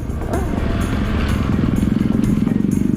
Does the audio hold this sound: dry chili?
no